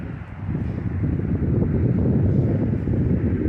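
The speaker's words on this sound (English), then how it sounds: "This wind is really picking up" Strong outdoor wind buffets the microphone in a rough, continuous low roar that swells and stays loud and close throughout, with no voices.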